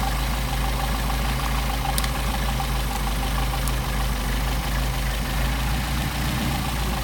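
A Mercedes 190SL engine runs on Solex carburetors with the linkage disconnected so the carburetors work independently, giving a steady, even idle close up with no voices.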